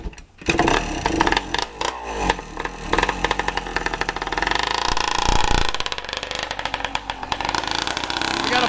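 A 1982 Yamaha IT175 two-stroke dirt bike engine, a parts bike used as a test bed for a new CDI, fires up and revs loudly and raspily close by, with uneven bursts settling into a buzzing run.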